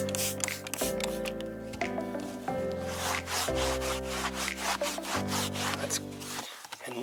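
Rapid, rhythmic scrubbing strokes clean a mold- and mildew-stained boat vinyl seat surface, steady and close throughout, under continuous background music with changing tones.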